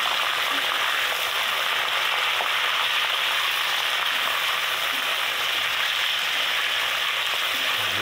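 Ginger garlic paste fries with browned onions in a pan, giving a continuous even crackling sizzle, steady and moderately loud throughout with no talk.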